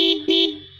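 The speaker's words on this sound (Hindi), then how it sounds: "बाइक का थोड़ा हॉर्न मैं सुना देता हूँ आपको" A 2012 Bajaj Pulsar 150 motorcycle sounds its electric horn in two quick toots, the second held a bit longer, steady and buzzy, close and loud with no talking.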